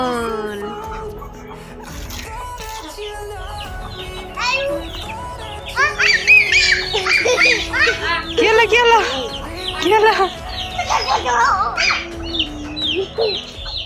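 Chicks and hens clucking and cheeping nearby while children's voices chatter and call over them, busy and lively throughout.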